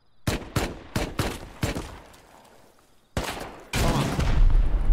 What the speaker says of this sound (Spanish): Yo disparo a las paredes.